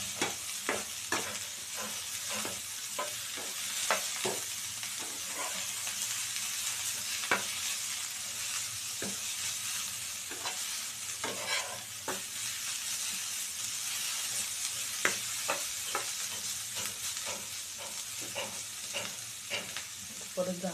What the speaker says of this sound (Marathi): सो अधूनमधून आपल्याला हे जरा हलवून घ्यायचं आहे, जेणेकरून करपूनही खाली लागू नये.